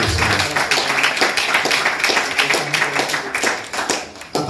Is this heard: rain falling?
no